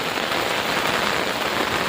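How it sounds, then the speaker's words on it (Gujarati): Heavy rain pounding on a house roof, a dense unbroken roar of drops, loud and close without pause. "એટલો વરસાદ પડે છે"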